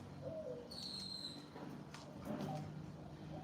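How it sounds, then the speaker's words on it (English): Birds call outdoors in Costa Rica, a few faint whistles and soft coos scattered over a steady background hum, distant and quiet with no one talking. "I'm in Costa Rica, y'all, so you know, hear the birds"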